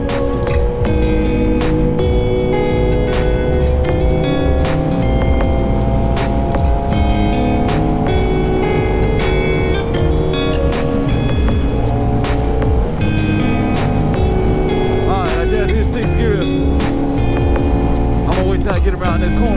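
First-generation Suzuki Hayabusa with an unrestricted engine idling and rumbling nearby, a loud continuous drone with steady harmonic tones and slight pitch shifts, wind buffeting over it throughout.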